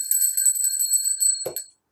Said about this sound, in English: I'm going to ring my Phoenix bell.